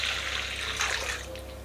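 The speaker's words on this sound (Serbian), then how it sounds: "Prvo ćemo da sipamo 500 ml mlakog mleka" 500 ml of lukewarm milk pours steadily into a bowl for dough, a short, continuous close splash and trickle with no talk.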